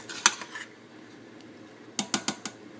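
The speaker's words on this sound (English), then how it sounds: "just give it a nice little stir" A spoon clinks and scrapes against a cooking pot while seasonings are stirred in for a Puerto Rican stew, with a few sharp metallic taps early and a quick burst of clatters near the end.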